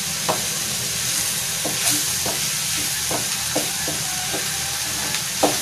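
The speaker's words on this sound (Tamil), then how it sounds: "வெறும் பச்சை மிளகாய், வெங்காயம், இஞ்சி பூண்டு பேஸ்ட், அப்புறம் காய்கறிகள், அப்புறம் எக்கு நல்லா ஊத்தி பிரட்டிட்டு இருக்கோம்." Egg stir-fried in a pan with green chilli, onion, ginger-garlic paste and vegetables: a steady close sizzle and hiss with scattered soft scraping strokes of a spatula, no voices.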